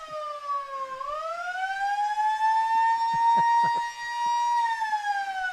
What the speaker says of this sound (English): I want to keep blowing the siren